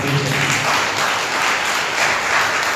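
A church congregation at a Sunday service breaks into steady, dense clapping for God, a loud sustained wash of applause from many hands that fills the room without pause.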